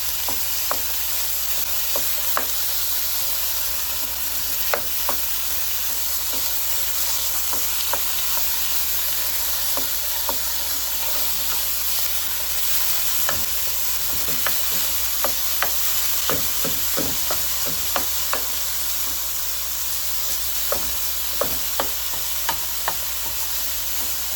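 Ground beef sizzles steadily in a hot pan, a constant crackling hiss broken by occasional sharper pops and scraping stirs, with no talking.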